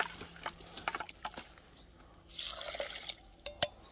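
A hand stirs pigeon feed mixture into water, giving irregular wet sloshes and drips close by, with a louder swirling splash midway.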